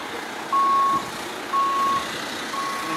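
A truck backing in gives off evenly spaced reversing beeps, three steady tones about a second apart, sounding loud and close over a low rumble of outdoor ambience amid storm damage.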